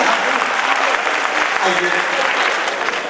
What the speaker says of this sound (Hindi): बंद कर दो ताली बजा दो,